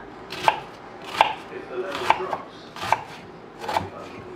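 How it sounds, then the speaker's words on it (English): A knife chops food on a board in five evenly spaced, crisp strikes, close and clear against a quiet background, while preparing chicken and dumplings. "Watch what you're chopping, because the knife did slip on me"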